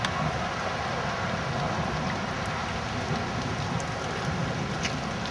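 A hailstorm with lightning over a flooded street pours down as a dense, steady hiss of falling ice and rain, with faint distant thunder underneath and no speech.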